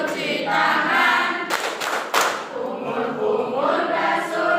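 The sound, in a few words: class clapping rhythm of ablution clapping chant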